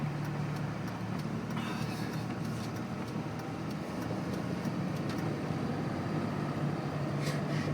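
Continuous droning rumble of a 2005 Dodge Ram 2500 Cummins diesel truck driving on packed snow while plowing, heard from inside the cab with a steady hum and occasional light rattles.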